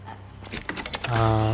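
In the Outlast Trials video game, keys jangle in a few quick metallic clinks, then a door unlock opens into a sustained mechanical hum, all brief and close.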